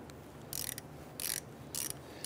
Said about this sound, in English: Now we're going to use a 5/16 deep socket in our 1/4-inch ratchet.